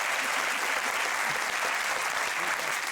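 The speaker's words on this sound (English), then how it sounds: "Give him a round of applause." Studio audience on a British comedy quiz show applauding warmly, a dense, loud, continuous wash of clapping with no break.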